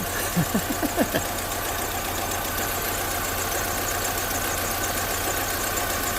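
A 2005 MINI Cooper four-cylinder engine idles steadily after a disconnected fuel injector is plugged back in, with a few sharp knocks near the start settling into a smooth, continuous close-up running note.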